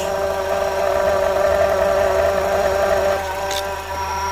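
A car engine idling with its AC compressor clutch engaged, a steady close mechanical hum and drone with a faint brief high whine partway through, no talking.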